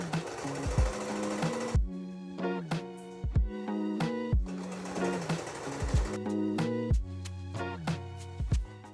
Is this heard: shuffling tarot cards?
no